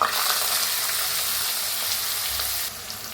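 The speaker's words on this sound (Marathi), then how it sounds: "आता तेल चांगलं गरम झालंय, त्याच्यात टाकूया 1 चमचा जिरं, त्याच्यात टाकूया थोडंसं हिंग, कापून घेतलेला बारीक असा कांदा" Cumin, a pinch of asafoetida and finely chopped onion fry in well-heated oil for masala egg, giving a loud, continuous close sizzle that softens slightly near the end, with no voices.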